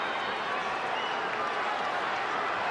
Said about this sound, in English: Crowd responding to the new action as Mosley throws from a new position